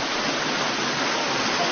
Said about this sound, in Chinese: 越接近上游，河道变得越窄，溪水的水流也变得湍急